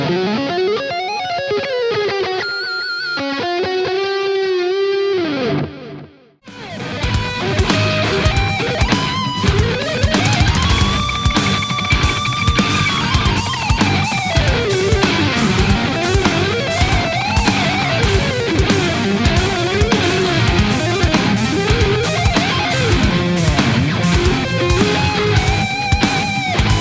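An electric guitar shred solo from a song, in an odd time signature, wails with fast melodic runs and soaring bends over a loud, dense full band backing after a brief softer intro passage.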